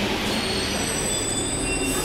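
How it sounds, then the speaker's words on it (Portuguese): A Paris metro train pulls into the platform, a steady loud rumble of wheels on rail with a thin high squeal sustained over it throughout, no voices. "o metrô já está chegando"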